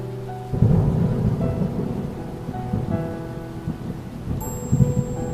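Heavy rain pours steadily through a night scene in a Bengali horror cartoon, with deep rumbling thunder rolling underneath and swelling again near the end, plus a faint tonal hum.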